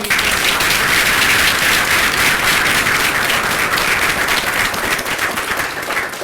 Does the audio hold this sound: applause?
yes